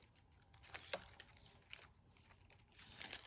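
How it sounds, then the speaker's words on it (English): Paper peeled slowly off the backer of a wooden door hanger, a faint close crinkling and tearing with small crackles, quiet and steady. "just make sure that you're pulling the paper from the backer, not trying to bend the wood away from the backer."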